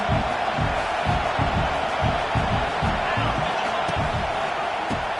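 A large football stadium crowd roars as the defense is pressed, a loud, dense wash of noise with rhythmic pounding or stomping beneath it, continuous throughout.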